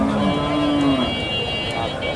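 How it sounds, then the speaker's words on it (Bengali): A red Sahiwal cow at a cattle market in northern Bengal gives a single loud, drawn-out moo up close, followed by a steady murmur of the busy market. "এখানে একটা গাভী দেখতেছি"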